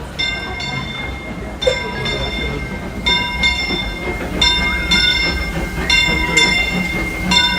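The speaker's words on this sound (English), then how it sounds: "The Disneyland Limited now arriving from a trip around Walt Disney's Magic Kingdom." A Disneyland Railroad steam train pulls into the station at the park, with a series of bright, repeated tonal bursts over a steady rumble of rolling cars and a background crowd murmur.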